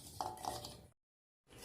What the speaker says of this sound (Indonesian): lalu kita akan aduk lagi sampai benar-benar tercampur